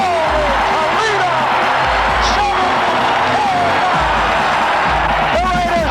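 A stadium crowd of 72,000 roars and cheers for a Raiders touchdown at the Super Bowl, a loud continuous wash of yelling with whoops rising above it, while an announcer talks over the din.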